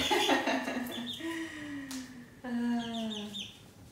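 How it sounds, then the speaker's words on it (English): Chickens cluck and call in a few drawn-out, rising squawks, close by, with no talking over them. "Chickens have like an amazing home now."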